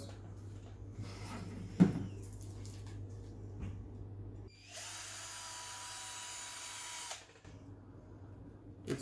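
A power drill whirs steadily for about three seconds, drilling into frozen slime, preceded by faint handling knocks and a sharp tap, then stops.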